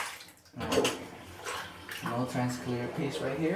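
Water poured into a tub of bulk Lego pieces, a splashing, rushing pour that runs steadily for a few seconds while a person talks over it.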